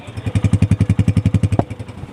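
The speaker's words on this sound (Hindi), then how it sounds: "बड़ा बंधा हुआ साउंड है बाइक का, समझ रहे होंगे। कॉम्पैक्ट साउंड है, कोई एक्स्ट्रा आवाज़ नहीं आ रही।" A Honda 125 motorcycle engine idles close by with an even, fast thumping beat of about eight pulses per second, then cuts off abruptly near the end, leaving quiet.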